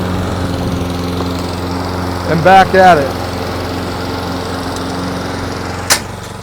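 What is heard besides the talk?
STIHL RM 655 VS lawn mower mowing grass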